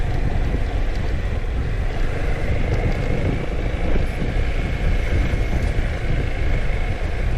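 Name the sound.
wind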